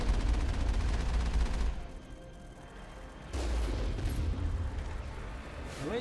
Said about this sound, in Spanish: Torreta enemiga.